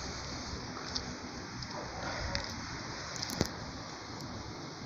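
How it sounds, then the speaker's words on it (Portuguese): Light rain falls steadily on a cold night at a cemetery, a soft continuous hiss with a few faint scattered drips and a brief louder tap near the end. "E com essa chuvinha ainda"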